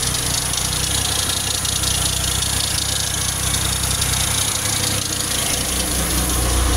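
Running engine of a 2006 Pontiac Grand Prix with a failing, noisy alternator, giving a steady close idle drone with a constant whine and faint rattling vibration, with no voices.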